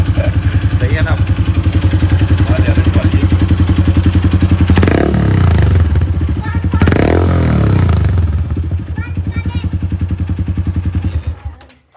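A modified motorcycle with a new silencer idles with a deep, steady throbbing thump, rises into two loud revs midway, then settles and cuts out at the end, close by, with people talking over it.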